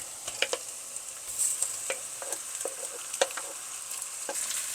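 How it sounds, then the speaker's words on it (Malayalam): Chicken going into a pan of lightly browned onions and soft spices for a traditional Kerala chicken curry, a steady close sizzle with scattered clinks and scrapes of stirring, and no speech. "നമ്മൾ എടുത്തു വെച്ചിരിക്കുന്ന ചിക്കൻ ഇതിനകത്തേക്ക് ഇടാം"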